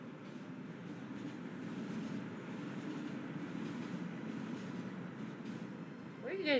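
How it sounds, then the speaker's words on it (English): A train in a video game passes as a low, steady rumble that swells and lingers, fairly faint, with a brief sharper squeal at the very end. "Don't get hit by a train."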